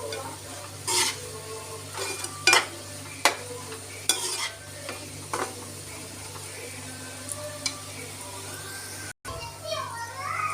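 Bitter gourd thokku masala is stirred and fried in a pan, with a soft sizzle and scattered spatula clinks and scrapes, while a person talks and children can be heard nearby.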